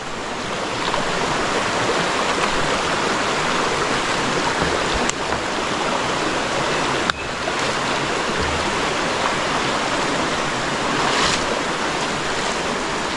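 A river stream flows in a steady, loud, broadband rush of water that runs unbroken throughout, with no voices.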